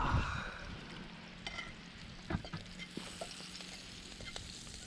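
Butter melts in a pan over an outdoor fire at a picnic spot, giving a soft, steady sizzle with scattered crackles and a few clinks of stirring near the pan, quiet and without talk.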